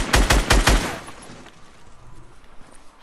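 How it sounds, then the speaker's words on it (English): A rapid burst of about five loud gunshots fires in quick succession at close range, then trails off into a fading echo and quiet background noise. "Somebody's shooting."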